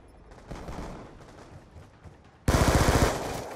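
Scattered distant shots give way to a sudden loud, close burst of rapid automatic fire from a hard-recoiling gun in Call of Duty Black Ops 2, sustained for about a second.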